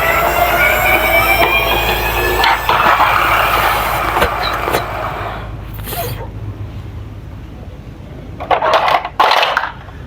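Yellow toy model school bus rolling down a track with a loud continuous rattling rumble that fades, followed by a few sharp clacks and knocks near the end.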